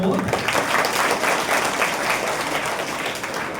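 At a high school celebration where students are being honoured, an audience gives sustained, dense applause lasting several seconds at an even, fairly loud level, with some faint voices mixed in.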